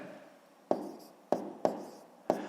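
Four short, crisp pen strokes tap and scratch across paper as an answer to a fifth-grade math exercise is written by hand, close up and quiet, with no talk.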